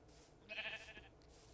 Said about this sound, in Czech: Ovce tady jsou.